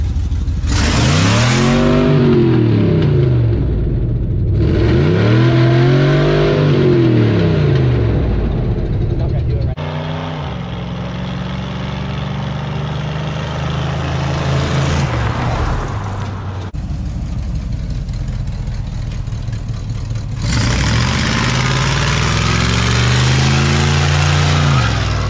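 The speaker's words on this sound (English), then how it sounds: "it's a Chevy C10 truck" A Chevy C10 truck engine revs hard again and again, each loud, close sweep climbing and falling back, with stretches of rough idling between the bursts.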